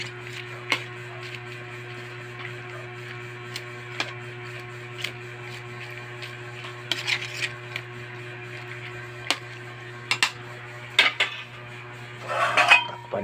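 Pork nilaga with taro and pechay stirred in a cooking pot, a few light clinks and scrapes of a utensil against the pot over a steady low hum, sparse and faint.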